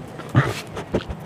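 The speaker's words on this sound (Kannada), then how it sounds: "ಈ ನಾಯಿ ತುಂಬ ಉತ್ಸಾಹಭರಿತವಾಗಿದೆ." An excited dog whimpering close by at a spot in Coorg, two or three short whiny yelps over a second of noisy outdoor background.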